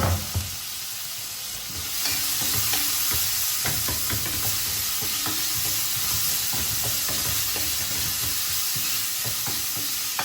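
A potato cutlet mixture sautés in a pan with a steady hissing sizzle that swells after a couple of seconds, broken by repeated scrapes and taps of stirring.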